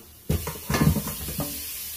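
Fried garlic and bacon sizzle and scrape as they are stirred in a pan, with a sudden onset followed by a few clattering stirs and a soft, continuous frying hiss.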